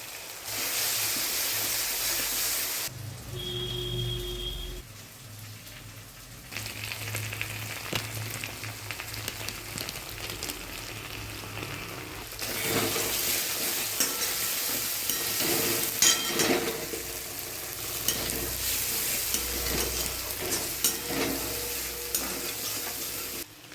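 Ginger, turmeric and sugar with bay leaves fry in oil in a kadai for paneer aloo dum, a continuous nearby sizzle with stirring, spoon clinks and a brief pause partway through.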